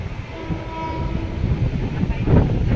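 A train moves through Bhanvad railway station with a continuous rolling rumble that grows louder toward the end, and faint tonal horn-like notes sit underneath.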